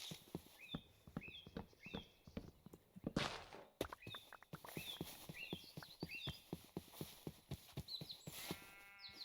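Horse hooves clip-clop steadily in the Minecraft video game, a regular string of sharp knocks alongside bird-like chirps and farm animal calls, with a brief noisy burst partway through and no talk.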